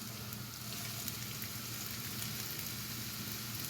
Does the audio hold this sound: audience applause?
no